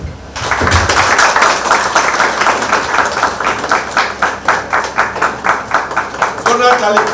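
An audience at a result announcement program claps loud and close, a rhythmic, fairly synchronized beat of many hands after a brief quiet start, with voices mixed in near the end.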